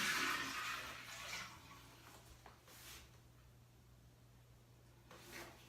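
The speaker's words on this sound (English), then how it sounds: "I'm just going to get some water and just test the toilet. Make sure there's no leaks." Water is poured into a newly installed toilet in a bathroom being fitted out, testing it for leaks: a splashing, rushing pour at the start that fades into quieter trickles, with a brief surge again near the end.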